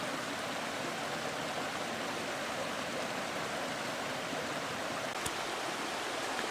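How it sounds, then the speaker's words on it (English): A creek flows steadily beside a camping trail, a constant close rushing hiss of water with no voices over it. "We're just following this creek, looking for places to fish."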